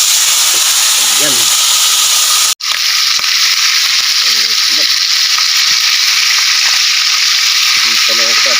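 Octopus frying in a hot pan at night, a loud steady sizzle running throughout with a brief sharp knock partway, and someone speaking in short bursts over the hiss.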